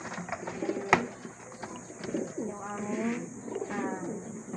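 Pet doves coo close by in soft, low, repeated throaty calls, with a sharp knock early on and some quiet background noise.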